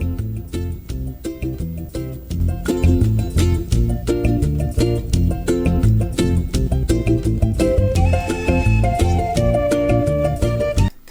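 A MIDI cover of Donkey Kong Country music plays with a steady programmed beat, thumping bass and synthesized melody lines, loud and continuous throughout with no talking.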